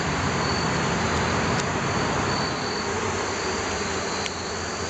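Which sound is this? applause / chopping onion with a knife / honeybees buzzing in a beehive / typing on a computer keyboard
honeybees buzzing in a beehive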